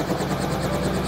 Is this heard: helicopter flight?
yes